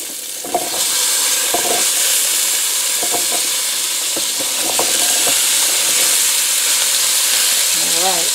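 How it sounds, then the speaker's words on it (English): Asparagus spears sizzling and hissing steadily in hot olive oil in a pan on a lit burner, a loud constant fry with a few light clinks and stirring sounds. "put in a drizzle of olive oil. And it's already turning wavy because everything's good and hot and the burner's still on. So we're going to start adding the asparagus"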